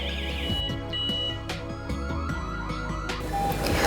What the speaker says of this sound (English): After the siren sound beep beep and the OLED display success, then learning successful.